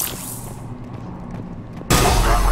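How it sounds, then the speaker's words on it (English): A Cerberus cannon in the video game Mass Effect 3 fires with a sudden loud boom that hits after a quieter stretch, its heavy blast and rumble sustained to the end, preceded by a whooshing sweep. "The cannon fire is clearing the way."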